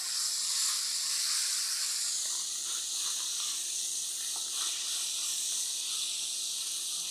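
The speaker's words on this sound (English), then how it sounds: "What I'm looking to do is I'm looking to flavor the oil with these anchovies." Anchovies sizzling in hot oil in a pan, a steady bright hiss holding evenly throughout with faint crackles, close and with no talking.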